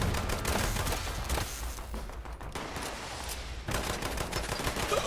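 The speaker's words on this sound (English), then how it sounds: "I can hear him shooting over there" Sustained automatic gunfire from an enemy player in Fallout 76, dense rattling shots running almost continuously with a brief dip midway, loud and close over a noisy game background.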